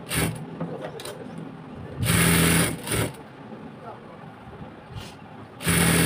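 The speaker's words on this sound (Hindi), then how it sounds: "यहाँ पे हमें बैक किनारे की सिलाई लगा देनी है" A sewing machine stitching the back edge of a palazzo, several short, loud, whirring runs of stitching in close succession between quieter gaps, with someone talking in between.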